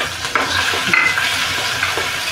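Chopped ginger, garlic and green chilli fry in hot oil in a pan over a medium-high flame, giving a steady close sizzle with a few soft scrapes of a spoon and no talk.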